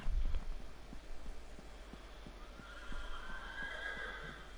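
A horse whinnies in the video game Elder Scrolls Online, a brief neigh followed by soft, rhythmic clip-clop hooves and faint ambient game sounds, fairly quiet overall.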